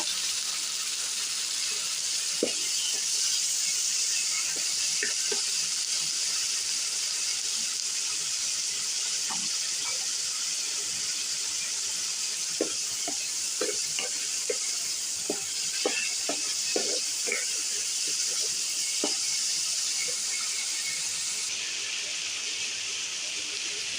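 Long beans dropped into hot oil in a home kitchen pan, giving a steady, close sizzle and hiss with scattered crackles and pops throughout, and no voices.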